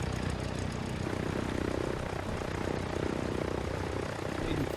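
Simulated Cessna C-172 piston engine and propeller idling steadily while taxiing at a mountain airport, a continuous near drone with even low thrum and no talk.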